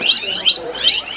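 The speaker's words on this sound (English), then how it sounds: "Sounds like a car alarm." A rapid electronic alarm sweeps up and down in three quick rising whoops, loud and piercing like a car alarm.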